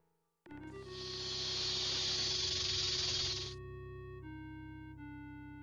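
Snake hissing in the video game Death Gate, a sustained breathy hiss lasting about three seconds over a low synthesized tone that continues after the hiss cuts off.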